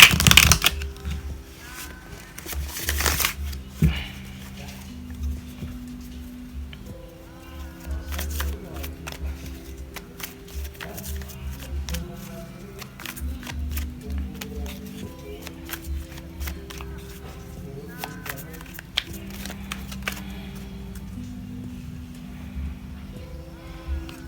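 A deck of classic tarot cards is shuffled again and again in a steady stream of riffling and sliding card noise, close by, with a voice heard at times underneath.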